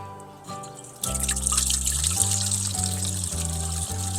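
A 12 watt solar-powered fountain water pump starts up and sends a steady stream of trickling, splashing water, loud and continuous after a brief quiet start.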